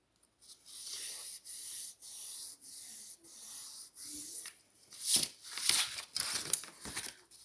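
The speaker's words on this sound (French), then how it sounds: "on va plier les 2 autres bords qu'il nous reste à plier avec la règle" Paper edges are folded along a ruler, giving repeated soft scraping and rubbing strokes in a steady rhythm. Sharper crinkling swipes follow near the end, close and fairly quiet, with no talking.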